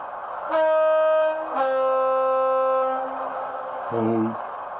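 Sound-fitted Derby Lightweight model railcar sounding its horn: two sustained tonal blasts in sequence, then a shorter lower buzzing tone, loud and close.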